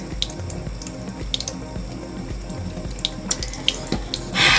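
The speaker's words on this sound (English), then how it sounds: "I'm gonna wash my hands." Hands being washed at a sink under a running tap, with a steady close stream of water, small splashes and clinks throughout, and a louder gush of water near the end, with no talking.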